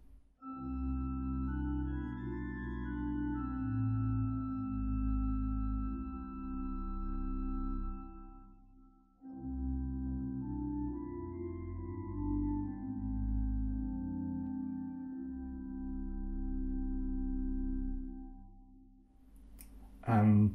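Rieger pipe organ with the terz stop added, soft sustained chords held steadily with a brief gap midway, quiet and full with no voices.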